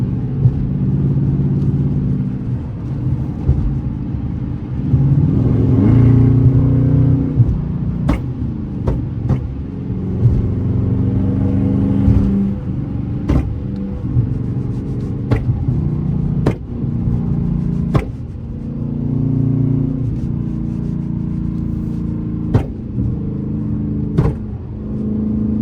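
Tuned Dodge Charger R/T Scat Pack cruising on a highway, its engine a steady loud low rumble throughout with occasional swells of revving and sharp ticking clicks over the drone.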